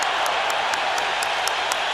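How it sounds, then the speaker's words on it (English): Boxing arena crowd cheering and applauding during a Marco Antonio Barrera versus Juan Manuel Marquez fight, a dense continuous roar of clapping and voices filling the whole stretch. "And the crowd rises to appreciate the intensity of this war."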